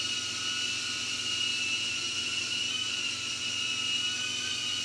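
A Blade Inductrix FPV micro drone hovers indoors in altitude hold, its tiny props giving off a steady, close, unbroken high-pitched whir and hiss that holds level throughout with no talk.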